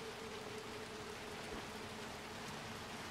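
Steady rain in the video game Little Nightmares 2, a continuous soft hiss of falling water spread evenly throughout, fairly quiet, with no voices over it.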